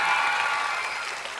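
Audience clapping steadily at a stage show, a dense even wash of applause that holds at a constant level and tapers slightly at the end.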